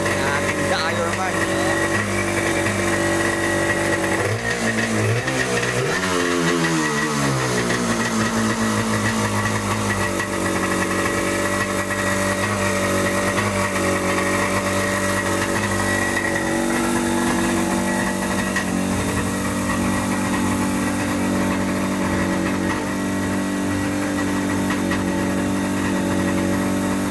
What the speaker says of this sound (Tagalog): Uunin namin yung makina.